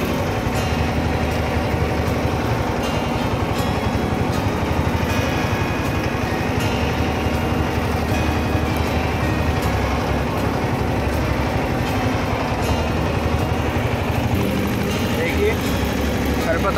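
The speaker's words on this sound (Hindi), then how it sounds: "ट्रैक्टर 1500 आरपीएम पे चल रहा है टू व्हील ड्राइव पर" A two-wheel-drive tractor pulling a cultivator through a sugarcane field runs at about 1500 rpm, giving a steady, loud diesel drone throughout, with someone talking over the engine.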